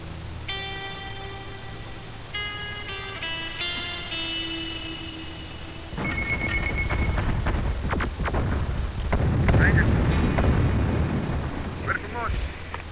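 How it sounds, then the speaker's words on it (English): Gunfire and explosive blasts in the video game Terminator Dark Fate: Defiance. A tonal music cue comes first, then booming, rumbling shots and bursts build up loudly over the second half. "You hear that? Gunfire."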